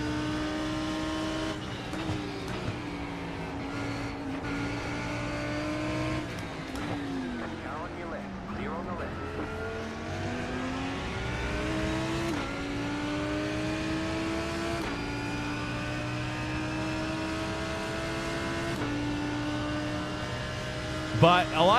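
Porsche GT3 race car in the iRacing sim at Atlanta: a sustained engine whine with rising and falling revs through gear changes, steady throughout, with someone talking over it.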